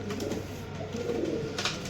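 Pigeons in a large loft keep up a steady, overlapping cooing and soft warbling, close by and at a moderate level, with no voices.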